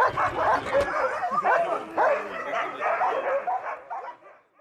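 Sled dogs being picked for a team bark, yip and whimper excitedly at close range, a chorus of overlapping high-pitched yelps and whines that fades at the end.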